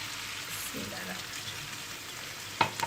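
Green beans sautéing in a pan give off a steady soft sizzle with faint stirring scrapes, then a brief sharp clatter near the end.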